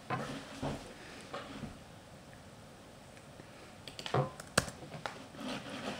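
Computer keyboard typing, a few scattered soft clicks and then a quicker cluster of sharper keystrokes near the end, faint and close in a quiet room with no talking.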